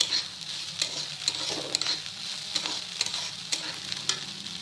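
Whole garam masala with cinnamon sticks and cloves frying in hot oil for chicken biryani, giving a steady close sizzle with scattered light crackles and pops and no voices.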